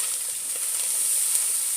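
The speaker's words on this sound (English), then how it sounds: "Just give it a stir around." Hatch chili sizzling in a pan on a camp stove outdoors as it is stirred, a steady close hiss of frying with faint scraping and no talking.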